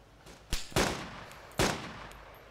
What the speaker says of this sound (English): I'm shooting back at them, yeah